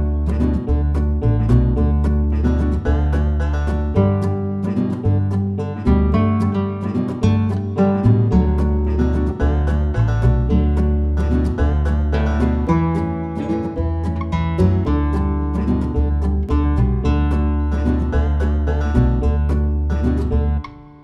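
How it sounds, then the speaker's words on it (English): Country-style arrangement built on muted strummed guitar and other string instruments, a steady dense rhythmic pattern playing loud and continuous throughout, ending on a short stab. "muted strum guitar, but all of those string instruments sound like this."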